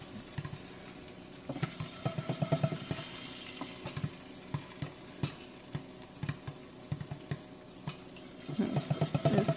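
Popcorn kernels and loose bits rattle and scrape in a pot shaken on a stovetop, giving repeated uneven clattering bursts over a steady sizzling hiss, close and moderately loud throughout.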